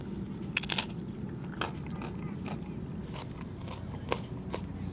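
Crunchy tortilla chips from a taco shop being bitten and chewed close to the mic, a few sharp crunches spaced over several seconds against a quiet, steady room background.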